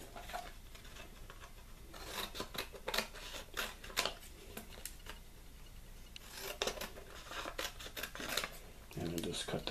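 Scissors snip through material to cut it in half while making mega-matches, a run of crisp rasping cuts through the middle of the stretch, close and fairly loud, with a person talking quietly around them.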